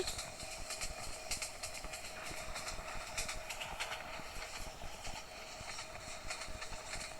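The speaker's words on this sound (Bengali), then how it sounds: "তো দেখতে পাচ্ছেন ট্রেনটি এখন যাচ্ছে" A train running at speed in Train Simulator Bangladesh near Gabtoli station, a steady dense rumble with a faint rapid clatter of wheels throughout, no voices.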